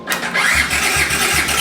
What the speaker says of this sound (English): Starter's working.